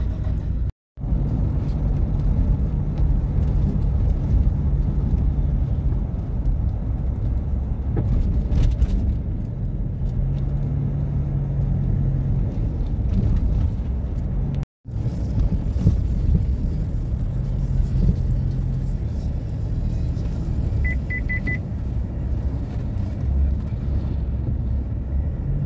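Steady road traffic rumble near Sampaloc, Apalit, with engines droning continuously, vehicles passing close by, a loud constant wash of motor noise with brief dropouts.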